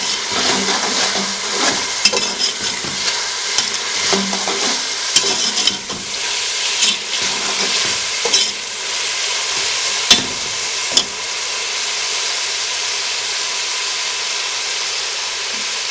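Finely chopped green chillies frying in a pot for beef yakhni pulao: a loud, steady sizzle and hiss throughout, with occasional stirring scrapes and a couple of sharp knocks near the end.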